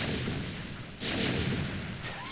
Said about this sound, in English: he's pretty intent on just giving Ancient One hell in the form of tank barrage